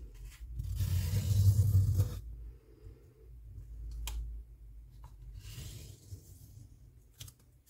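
Square origami paper being folded in half, soft papery rustling and creasing with a louder crinkling burst at first, then quieter scrapes and a few sharp clicks, close and faint overall.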